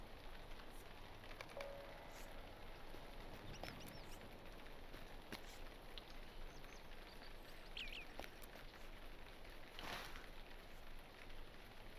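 Rain falls in the video game Lord of the Rings Online, a faint, steady hiss and patter of drops throughout with a few soft incidental game sounds over it.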